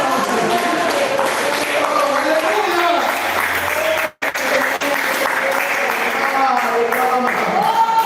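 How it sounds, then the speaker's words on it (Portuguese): A congregation applauds in church during a Wednesday evening service, a steady wash of clapping that runs the whole time, mixed with music and voices. "Dá uma salva de palmas."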